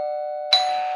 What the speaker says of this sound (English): Miss Rabbit went up to the front gate and rang the bell.